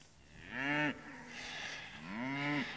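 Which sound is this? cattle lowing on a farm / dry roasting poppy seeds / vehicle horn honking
cattle lowing on a farm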